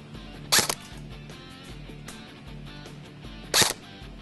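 An airsoft gun firing 0.20 gram BBs at nearly 400 feet per second at a ProTech Dent dental guard: two sharp, loud cracks about three seconds apart over a low background hum.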